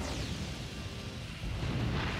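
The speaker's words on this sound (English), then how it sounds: "Explosions everywhere." Dense rumbling booms and crackling blasts from explosions in The Legend of Dragoon, continuous and loud throughout, with no talking.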